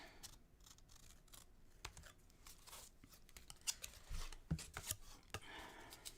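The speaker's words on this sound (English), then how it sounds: "So now we need the scissors. And we're going to cut off these edges." Scissors snip through the edges of a canvas in a quiet room, a series of sharp, faint cuts and crisp clicks spaced irregularly, with paper-like rustling between them.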